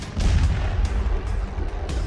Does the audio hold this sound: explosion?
yes